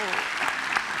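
Audience applause for a world-champion Indonesian barongsai lion dance team at a televised talk show, a continuous burst of clapping from a studio crowd.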